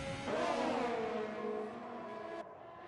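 Formula 1 race car engines roar in F1 2020 at the British Grand Prix, a high sustained whine with a shifting pitch as cars run wheel to wheel, then an abrupt cut to a softer engine note.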